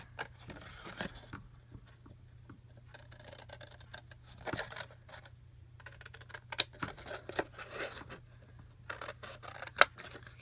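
Scissors snipping through paper, cutting out a printed movie-star signature for a handmade memory deck; a series of quick, close snips and rustles of paper in irregular bursts with no talking.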